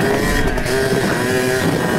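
A Kawasaki KDX220 dirt bike revs in first gear across rocky riverbed ground, a loud, close, continuous two-stroke engine drone with slight pitch swells throughout.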